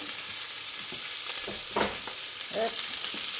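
Onion and garlic frying in a pan while a spatula scrapes the bottom: a steady loud sizzle with a few short scraping strokes breaking through, close up and with no talk.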